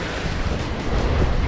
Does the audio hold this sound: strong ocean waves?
yes